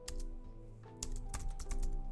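Rapid keystrokes clatter on a computer keyboard while coding a React web interface, irregular clicks in quick bursts with a brief pause, close and fairly loud, with no talking.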